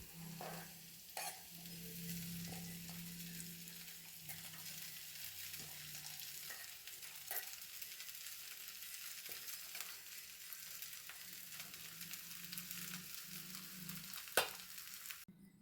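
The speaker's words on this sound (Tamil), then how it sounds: "எல்லாத்தையும் நல்லா சேர்த்து வதக்கி விட்டுணும்." Onions, green chili and red poha sizzle steadily in a pan for a traditional aval upma while a spatula stirs and scrapes now and then, close and continuous with no talking.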